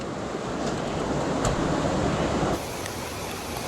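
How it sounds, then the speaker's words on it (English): Heavy rushing water churns through a canyon after a rainstorm, a loud, steady broadband roar that stays constant throughout, with some wind buffeting the microphone. "Wow, there's so much water. It's rushing."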